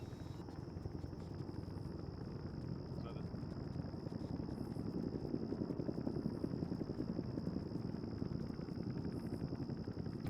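A continuous helicopter rotor drone fills a military video game, steady and fairly distant with a faint high whine above it, and no voices come through.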